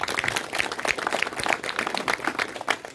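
Dense, steady clapping from a crowd at a house-blessing ceremony fills the whole stretch, a continuous patter of many hands with no pauses.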